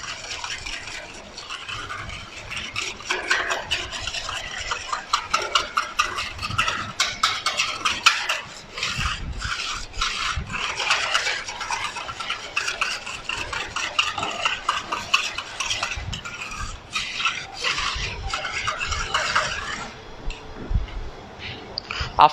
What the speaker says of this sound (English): mix everything together with the whisk